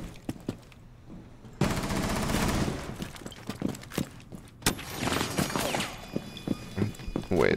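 Gunfire in the tactical shooter Rainbow Six Siege: sharp, rapid shots crack in irregular bursts, mixed with footsteps and periodic heavier volleys, with a voice talking underneath.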